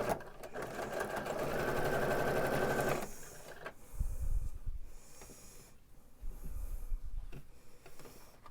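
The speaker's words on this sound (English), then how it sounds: "Now when sewing over the braid, you might want to go a little bit slow because the machine kind of has to go up and over that." A sewing machine stitches over braid trim on a throw pillow, running in a loud, steady whir for about three seconds before stopping, followed by quieter handling noises.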